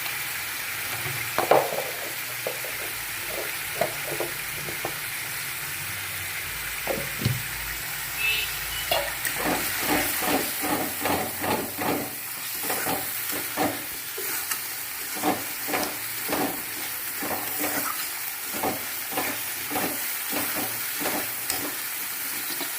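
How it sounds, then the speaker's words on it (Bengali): Ground cumin, turmeric and chili powder fry in hot oil in a pan with a steady sizzle, while a spatula stirs in a fast, regular run of close scraping strokes. "মশলাটা ভালো করে ভেজে নিতে হবে তেল ছাড়া পর্যন্ত।"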